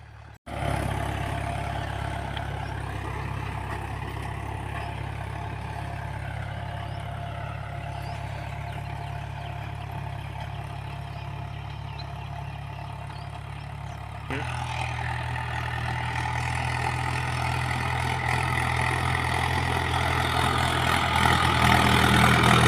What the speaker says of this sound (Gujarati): મેં ટ્રેક્ટર વાવણી કરે છે, બાજરી વાવી છે પાયોનીર